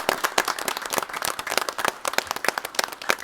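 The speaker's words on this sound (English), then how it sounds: "please join me in a round of applause for your job." A small group at a village board of trustees meeting in Arlington Heights, Illinois, claps in a burst of uneven, close hand claps that continues for a few seconds before thinning out.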